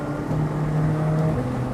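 McLaren sports car engine heard from inside the moving car, a low steady drone with a faint tonal hum that shifts in pitch, at moderate, even loudness.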